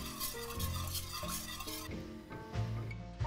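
Milk, butter and sugar are stirred with a whisk in a saucepan for vegan cinnamon roll dough, giving soft scraping and light metallic clinks against the pan, close and fairly quiet, with no talk.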